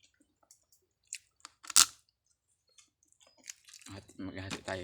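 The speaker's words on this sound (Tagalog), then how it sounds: "kagat ng alimango." Someone bites and chews crab during a mukbang, producing scattered close crunching and cracking clicks with one sharp crack, before a voice starts talking at the end.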